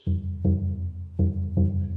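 A deep hand drum booms in a steady pattern of paired strikes, low and resonant, played close with no voices.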